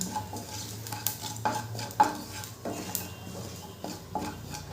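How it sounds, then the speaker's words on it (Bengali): Cut potatoes go into a pan of fried whole cumin, with repeated metal stirring and scraping clatters against the pan and a faint sizzle. "গোটা জিরেটা ভাজা ভাজা হলে দিয়ে দেবো কেটে রাখা আলুগুলো।"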